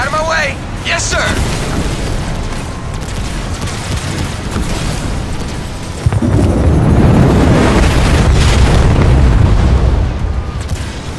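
Loud, continuous battle noise in the video game Halo Wars 2 with repeated heavy booming cannon blasts and rumbling impacts on a carrier's shields, intensifying in the second half, with voices shouting faintly underneath.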